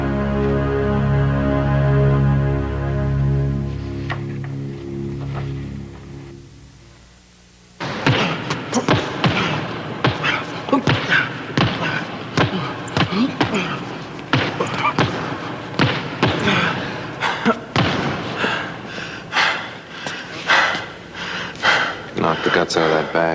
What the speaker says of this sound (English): Knock the guts out of that bag.